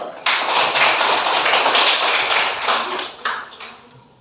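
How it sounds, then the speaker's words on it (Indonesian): A classroom of pupils claps together after a drama exercise, a dense burst of many hands that starts abruptly, holds steady for several seconds, then thins out and fades. "Bagus, tepuk tangan dulu."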